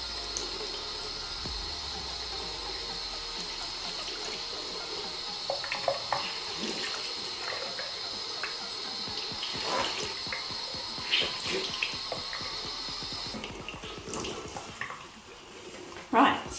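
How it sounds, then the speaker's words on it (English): Tap water runs steadily into a glove holding a makeup sponge, a continuous splashing hiss with small sloshes and squeezes, close and fairly loud, ending near the finish. "I just run the water into my glove"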